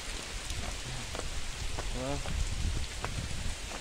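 Steady rain hisses across the whole stretch at Tandulwadi fort near Palghar, with a few faint sounds and brief murmurs mixed in beneath the constant downpour.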